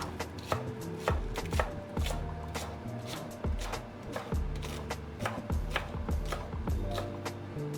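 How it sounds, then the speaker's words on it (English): A knife finely chops spring onions on a board, a quick run of close, sharp thuds in an uneven rhythm with short pauses between bursts. "Cut off the stems, not the stems, the roots, and then we just chop finely"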